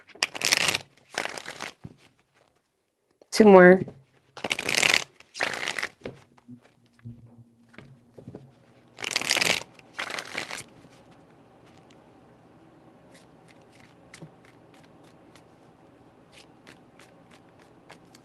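Tarot cards shuffled by hand in several short, crisp riffling bursts separated by pauses, with a brief spoken phrase in between and quiet room tone at the end.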